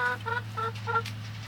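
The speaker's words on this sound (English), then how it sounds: "Got the old hens here." Hens cluck in four short rhythmic bursts over a steady low hum, close by and moderately loud.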